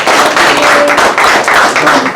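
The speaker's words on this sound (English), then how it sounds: "So give her a round of applause." Loud, dense clapping from a crowd, continuous throughout with no talking.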